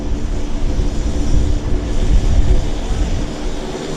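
A JAL airliner at Vancouver Airport rumbles with a broad, low engine roar that swells and fades slightly in strong wind, heard at a distance with no talking.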